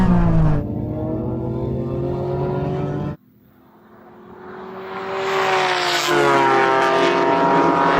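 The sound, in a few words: sports car engines racing, video game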